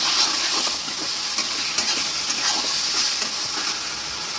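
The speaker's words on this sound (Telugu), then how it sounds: "ఇప్పుడు మనం పేస్ట్ ఏదైతే తయారు చేసుకున్నామో దాన్ని యాడ్ చేసుకుందాం. ఇది బాగా కలుపుకోవాలండి." Masala paste sizzles and hisses as it is stirred into chicken in a hot pan, a continuous bright frying crackle with occasional scraping of the spoon.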